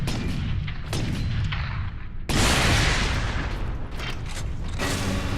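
A missile launcher in Warhammer 40000 Space Marine fires with heavy, booming blasts and mechanical clanks, loud and dense, one big burst followed by more roaring fire.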